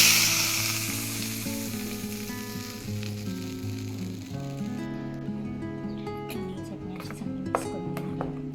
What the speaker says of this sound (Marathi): या चटणीला आपण अशी फोडणी देणार आहोत।